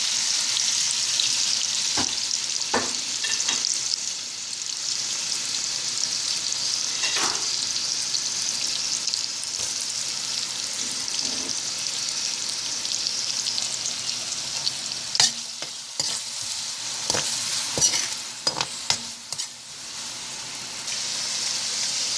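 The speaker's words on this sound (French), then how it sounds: "Je vais ajouter tout ensemble l'oignon, ail et oignon vert." Onion, garlic and green onion sizzle and fry in oil in a pan, a steady close crackle with occasional stirring clicks and scrapes, no talking.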